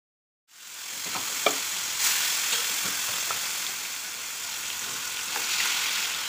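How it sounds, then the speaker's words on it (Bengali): Fish frying in oil in a pan in a home kitchen, a steady bright sizzle with a few soft clinks and pops, close and fairly quiet, with no talking. "আমি এখন মাছ ভাজা করছি"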